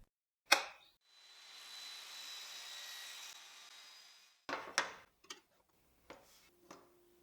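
Old reclaimed wood pieces being cut at a 45-degree angle: a sharp knock, then a steady, fairly quiet rasping cut lasting about three seconds, followed by a few scattered clacks of wood being handled.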